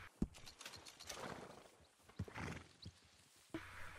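A horse in Red Dead Redemption 2 whinnies and snorts close by, mixed with shuffling hooves and faint mechanical clicks, in short quiet bursts.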